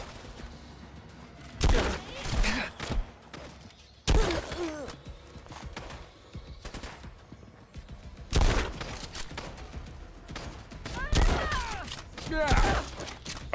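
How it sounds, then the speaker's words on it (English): Shotgun blasts and gunfire sound in the video game Fallout: London, with several loud sharp bursts spaced a few seconds apart, the last two close together, over a quieter game background. "you took an entire shotgun blast to the face and did not die"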